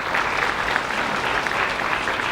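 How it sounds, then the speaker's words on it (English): Steady, dense applause fills a church hall as an audience claps for the speakers at a civil liberties day event, a continuous broad wash of many hands with no pauses. "Let's give another round of applause to our amazing,"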